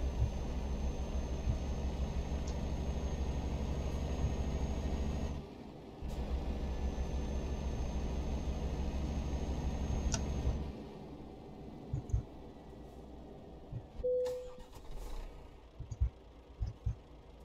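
Heavy truck engine in Euro Truck Simulator 2, a steady loud low drone with a brief break that then drops to a quieter idle scattered with clunks and a short tone.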